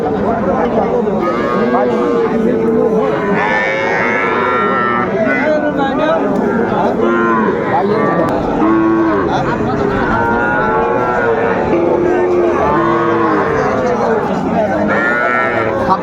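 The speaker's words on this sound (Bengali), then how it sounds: "বেশ সুন্দর সুন্দর বাসুর গরুগুলো কালেকশন করতেছে" Cattle and young bull calves mooing repeatedly at a busy cattle market, over a noisy crowd with people talking continuously throughout the steady din.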